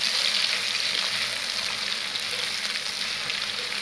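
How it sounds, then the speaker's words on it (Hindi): Ginger garlic paste fries in a pan for an egg and potato curry, giving a steady, fairly loud hiss that holds evenly without a break. No voices are heard. "और इसे 2 से 3 मिनट के लिए भून लेंगे।"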